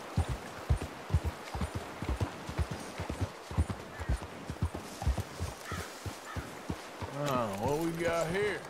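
Steady clip-clop of horse hooves trotting along in Red Dead Redemption 2, fairly close, with a voice and other game sounds rising near the end.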